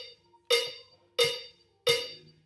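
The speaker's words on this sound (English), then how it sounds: "Normally the campana or the cowbell comes in when the band changes phases" Salsa campana, a handheld cowbell, struck three times at an even pace, each hit a sharp, bright metallic clank that rings and decays quickly, loud and close with no voices.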